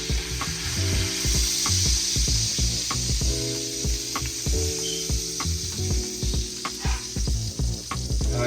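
Steak fries in real butter in a skillet with a steady loud sizzle, crackling and spitting throughout, and clinking utensil sounds and scraping heard intermittently close by.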